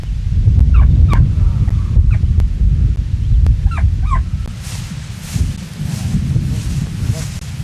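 Game bird calling during outdoor dog training, with a few scratchy calls standing out over heavy wind and field rumble.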